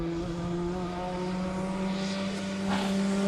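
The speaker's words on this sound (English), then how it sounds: "you're watching the Zaxbyt Mark II turbocharged little Escort up the hill" A turbocharged Ford Escort Mark II race car climbs a hillclimb course, its engine a steady, loud, strained drone with a rising tone as it accelerates, heard from a fixed roadside spot.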